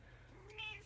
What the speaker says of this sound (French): Regardez-moi ce petit chaton.